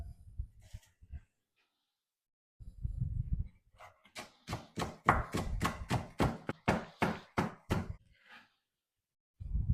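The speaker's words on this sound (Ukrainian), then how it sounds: "Зелену цибульку теж дрібно нарізаю." A knife finely chops green onions on a cutting board, a quick rhythmic series of close, sharp taps after a few scattered thuds.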